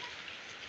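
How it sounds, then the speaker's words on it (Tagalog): Steady rain pattering on a surface, a dense even hiss throughout with no voices. "Umuulan."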